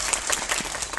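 Audience applause at a Korean film's live stage talk event fills the whole second as a dense, steady clatter of many hands clapping.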